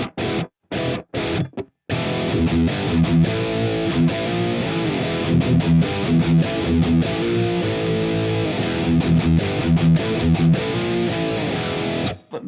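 A distorted electric guitar rhythm tone in the style of a live performance in San Diego in 1992, built on an Axe-Fx III with a touch of ambience. A few loud, clipped stabs give way to a driving, chugging riff that plays alone.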